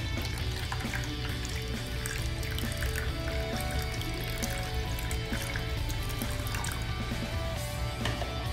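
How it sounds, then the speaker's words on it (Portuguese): Cold water, 250 ml, is poured steadily into a strawberry icebox cake mixture in a home kitchen, a continuous faint liquid splash and trickle with no talk. "agora eu vou colocar 250 ml de água gelada"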